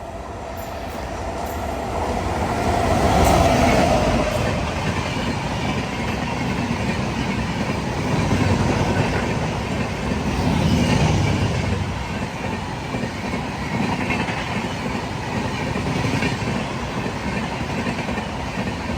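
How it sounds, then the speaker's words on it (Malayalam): The Chennai Mangalore Superfast, with an ICF coach at the rear, passes a platform at Cheruvathur station with a loud, sustained rumble and steady wheel clatter that carries on throughout. "ഇതുവഴി ഇപ്പോൾ ഒരു ട്രെയിൻ കടന്നു പോകും."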